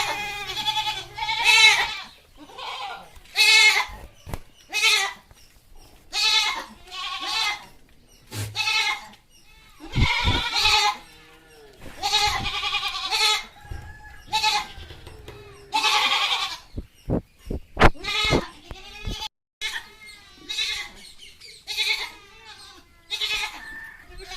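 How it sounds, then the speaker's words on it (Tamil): Goats on a farm bleating repeatedly as they are driven out of their shed, many loud, close cries overlapping in irregular bursts, with brief clatters and shuffling between calls. "இந்த ஷெட்டுலேருந்து இப்போ ஆடுலாம் நாங்கள் பிடிச்சிட்டு போகிறோம்"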